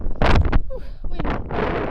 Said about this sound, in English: Whew, wind.